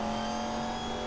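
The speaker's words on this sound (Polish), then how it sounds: "Ale ten samochód brzmi po prostu świetnie." Sustained car engine note at steady high revs from a vehicle in Need for Speed Most Wanted (2012), loud and close with a constant tonal drone throughout, no voices.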